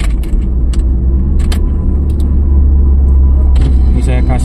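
A car engine in second gear drones with a loud, steady low rumble while driving on a road between Cilacap and Pangandaran, with a few brief rattles and no talking.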